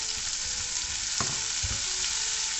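Onions and green chilies sizzle steadily in a hot pan for Malaysian-style sambal chicken, a close, continuous frying hiss with a couple of soft stirring knocks.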